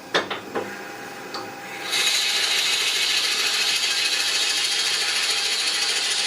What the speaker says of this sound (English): The reason I'm drilling this out is it'll make the ornament itself a little bit lighter.